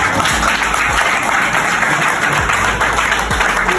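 Audience applause for Madame Jane Tabako at a business plan presentation, a steady, dense wash of clapping from a crowd that carries on evenly throughout.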